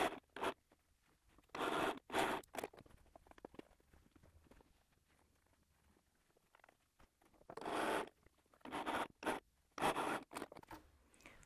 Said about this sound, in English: So I'm just going to carry on and sew a couple more